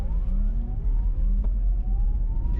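Porsche Taycan electric car launching under launch control on a desert road, its electric motor whine climbing steadily in pitch over a heavy low rumble of tyre and road noise, loud and close.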